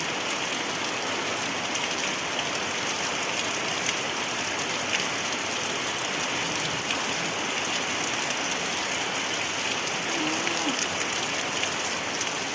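Steady, heavy evening rain pours down without pause under a windy, overcast sky, a dense hiss of drops close by, with no voices.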